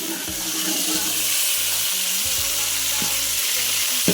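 Pointed gourd (potol) pieces frying in hot oil for a Bengali potol posto, a steady loud sizzle with light stirring clinks and scrapes throughout.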